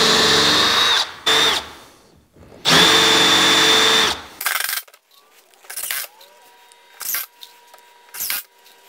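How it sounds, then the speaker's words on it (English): A drill fitted with a 3/8 Forstner bit countersinks holes in wood. Two long, loud whirring runs close by are followed by several short bursts and clicks. "I'm just gonna use my 3/8 Forstner bit to countersink all these holes"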